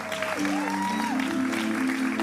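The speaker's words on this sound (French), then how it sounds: "Maximum d'applaudissements encore, s'il vous plaît, pour elles." An audience at a televised Christian music broadcast applauds steadily for two young girl singers, a continuous patter of clapping with music tones sounding alongside.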